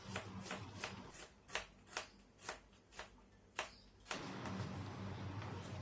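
A knife thinly slices onions for biryani on a board, making a quick series of crisp, evenly spaced chops up close, followed by a broader scraping rustle.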